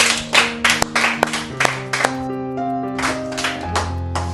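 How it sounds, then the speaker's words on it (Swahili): A church congregation claps to welcome a guest, a burst of several loud, irregular claps that thins out and fades, with a sustained musical tone underneath. "Acha tukaweza kupiga makofi tukaweza kumkaribisha."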